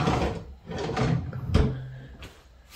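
Wooden drawers in a double-sink bathroom vanity of a modern single-wide mobile home slide and knock shut several times in close succession, with soft thumps and rumbling runs and no one speaking.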